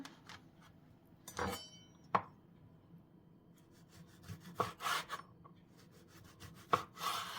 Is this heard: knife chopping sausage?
yes